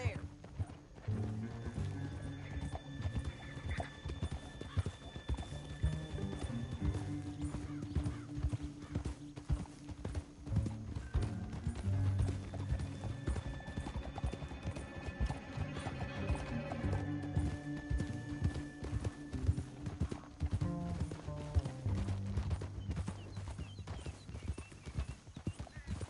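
Horse hooves clatter at a steady gallop with occasional neighs in Red Dead Redemption 2, set under constant music and game ambience while people talk throughout.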